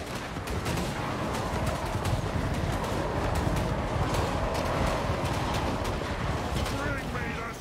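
Gunfire crackles through a battle in the strategy game Total War: Warhammer III, with dense, rapid volleys of shots layered over a busy din of combat that continues steadily throughout.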